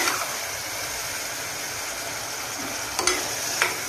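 Onions fry slowly in oil with curry leaves for a mutton masala curry, a soft continuous sizzle with a couple of brief sharp clinks near the end, no talk.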